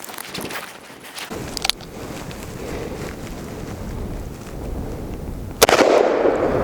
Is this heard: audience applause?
no